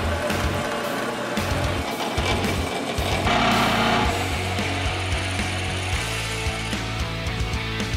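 A steady, grinding drill bites into a metal steering center link with a continuous whirring rattle and shifting pitch, loud and close throughout.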